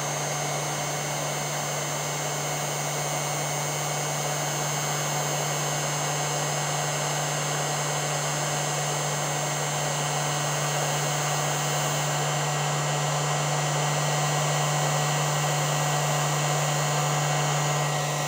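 A hair dryer blows steadily on a painted glass vase, a loud, constant whirring roar with a steady hum that holds unchanged for the whole stretch, close and alone.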